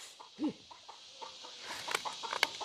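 A chicken on a mountain farm gives a short cluck near the start, followed by scattered softer clucks and faint rustling amid quiet outdoor background.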